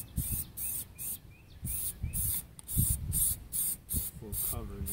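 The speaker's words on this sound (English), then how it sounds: "You need to spray the back of it as well." Repeated short bursts of aerosol spray hiss as Plasti Dip coating is sprayed onto a 2014 Dodge Charger grille, about eight quick sprays in a steady rhythm, close and fairly loud, with faint handling noise between them.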